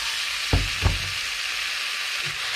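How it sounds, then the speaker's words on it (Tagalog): Pork sizzling steadily in a hot pan, a continuous bright frying hiss with two soft knocks of a utensil stirring early on and a faint bump near the end. "Yan, gigisa lang natin na konti."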